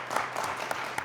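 A studio audience at a quiz show claps for the teams, a brief burst of applause with several distinct sharp claps standing out over a moderate wash of clapping.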